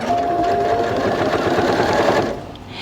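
Janome Skyline 5 sewing machine doing straight stitching, a continuous close, loud motor hum and needle chatter lasting the whole stretch before it eases off at the end.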